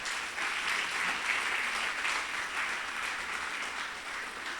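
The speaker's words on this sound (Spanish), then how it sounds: "Démosle un aplauso al Señor por estas vidas." A church congregation applauds during a service, a continuous even wash of many hands clapping at moderate distance, steady and fairly soft throughout with no speech over it.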